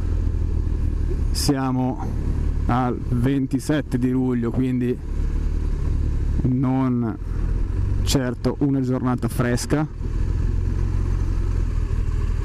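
A BMW R1200RT motorcycle rolling slowly through summer traffic, its low, steady engine drone continuous beneath someone talking close up for most of the stretch.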